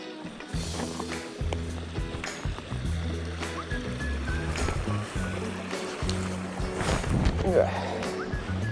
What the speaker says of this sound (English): Just got to cross the creek.